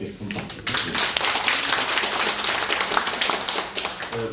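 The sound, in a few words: audience applause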